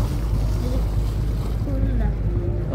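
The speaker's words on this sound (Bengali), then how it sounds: "কোদালপুর লঞ্চঘাটে যাত্রী নামানো শেষে আমাদের লঞ্চ পরবর্তী গন্তব্যের উদ্দেশ্যে ব্যাক গিয়ার দিচ্ছে।" A passenger launch's engine rumbles low and steady as it reverses away from the Kodalpur launch ghat on a river run from Dhaka to Haturia, with wind and water noise over a constant heavy drone and faint tonal whines.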